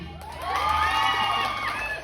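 A crowd at a Star of the Night male edition event cheers and shouts, a swell of overlapping voices and whoops rising then easing over a couple of seconds, with only faint clapping beneath.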